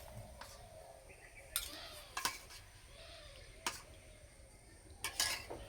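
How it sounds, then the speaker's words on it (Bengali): Lid lifted off a pot of soft homemade rasmalai made with milk powder and the syrupy sweets tipped onto a plate, giving several sharp metallic clinks and scrapes spaced over a few seconds against a quiet kitchen background. "এবার চাপাটা খুলে দেব, একটা থালার মধ্যে ঢেলে নেব।"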